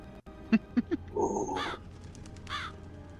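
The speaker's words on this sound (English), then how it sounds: "Just added a sound effect for those who have owl familiars." An owl and crow sound effect for fantasy familiars: three short low hoots followed by a few harsh caws, fairly clear and isolated over a quiet background hum.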